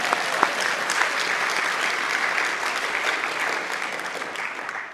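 A conference audience at the opening talk of an EAGxBerlin gathering breaks into dense, sustained applause that fills the room at a steady loudness and eases slightly toward the end.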